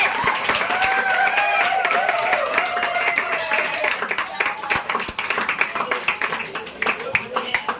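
Classroom applause for a student about to give an introduction on transportation, clapping mixed with cheering voices and whoops, thinning toward the end into scattered individual claps.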